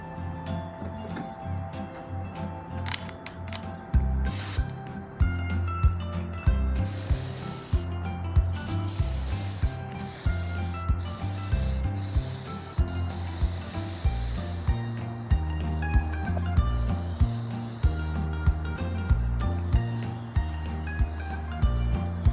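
A spray gun lays a second coat of finish on a cedar chest, steady airy hissing close by, mixed with rhythmic low thumps and rubbing noises and no voices.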